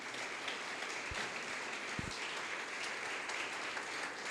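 Congregation applause for the Lord during a Spanish-language church service: a steady, fairly quiet wash of clapping that holds evenly through the whole stretch, with no voices over it.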